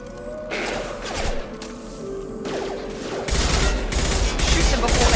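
Gunfire in the video game Mass Effect Legendary Edition, dense continuous bursts of shots mixed with mechanical clanks, loud and close, growing heavier toward the end.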